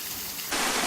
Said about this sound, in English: look at that, another waterfall over here